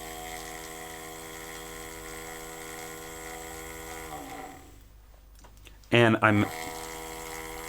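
An Ikape espresso machine's pump hums steadily with harmonic tones during pre-infusion, pauses briefly, then resumes after a short loud burst, with a word spoken near the end.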